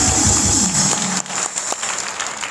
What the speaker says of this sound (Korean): 우리 박찬종 전 의원님 다시 한번 큰 박수를 보내주시기 바랍니다